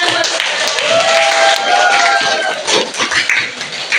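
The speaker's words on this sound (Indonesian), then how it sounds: "Tepuk tangan buat" A classroom of students claps for the groups that have just presented their science experiments in a school lesson, steady close applause with scattered voices and cheers mixed in throughout.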